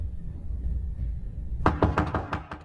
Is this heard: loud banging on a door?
yes